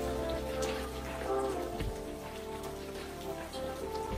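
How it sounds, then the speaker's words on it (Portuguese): Soft rain falls steadily outside, a gentle continuous patter blended beneath calm, sustained music. "enquanto a chuva cai suavemente lá fora"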